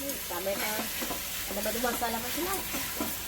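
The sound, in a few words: tomatoes cooking in a pan with spring onion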